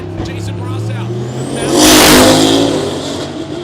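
A drag racing car at Sick Week in South Georgia launches with brief tire spin, its engine revving hard and swelling to a loud peak midway before easing off, with a race commentator talking over it.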